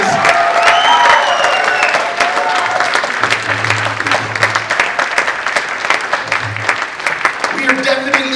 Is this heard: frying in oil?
no